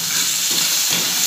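A single fish frying in a pan with a little chopped coriander leaves and onion, giving a steady, close, dense sizzle and hiss that runs without break, with no talk.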